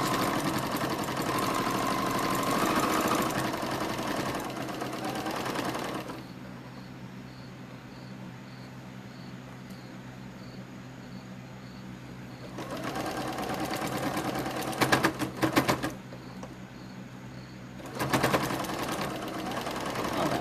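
A sewing machine stitches over a bit of fabric, running steadily in close bursts with brief pauses and restarts, loud and near, with no talk over it.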